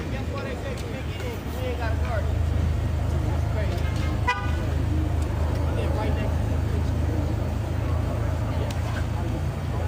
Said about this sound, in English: They're honking at you guys.